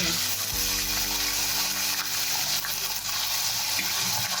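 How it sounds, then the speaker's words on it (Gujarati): Garlic and potatoes sizzle steadily in a pan over low gas, constant and fairly loud frying, with a low hum underneath throughout. "આ લસણને આપણે થોડુંક આમ સાતળી લેવાનું છે"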